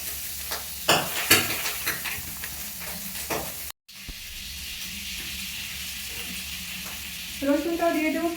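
Oil poured into a kadai that still holds water sizzles and hisses steadily, with a few sharp crackling bursts early on, a short break, then continuous frying with faint clinks and a brief voice near the end.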